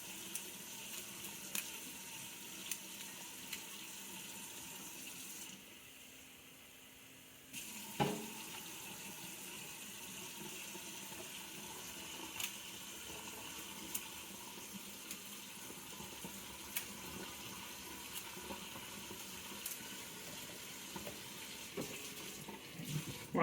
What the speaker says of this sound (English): Not boiling, but just hot from the tap.